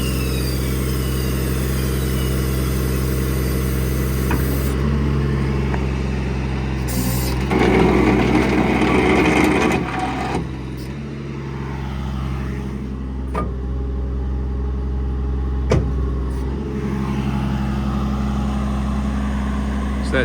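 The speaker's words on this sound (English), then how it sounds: "Go ahead and deploy the outrigger here." Hydraulic outriggers deploying on a 2015 Ram 5500 service truck with a 7k Autocrane and Kubota diesel EnPak, a steady engine-driven hydraulic drone with a louder surge midway and a few brief clicks, no talking.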